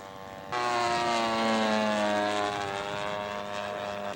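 A scale radio-controlled Kawasaki model aircraft flies past with a loud, steady engine drone that rises abruptly, holds with shifting pitch as it passes, then slowly eases off, with no voices.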